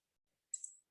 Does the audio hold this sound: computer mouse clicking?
yes